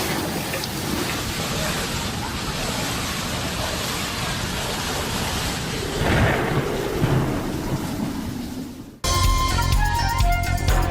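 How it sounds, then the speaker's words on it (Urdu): Heavy rain and a thunderstorm over the UAE: a dense, loud roar of downpour with rumbling thunder swelling partway through, then an abrupt cut to a different loud rain-filled scene. "موسلا دھار بارش اور یالہ باری، برج خلیفہ میں بارش کے دوران آسمانی بجلی کڑکتی دیکھی گئی"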